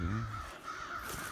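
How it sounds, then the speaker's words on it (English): Several crows cawing out in the woods, a harsh repeated call carrying clearly over a low rumble of handling noise, no speech. "A pile of crows over there."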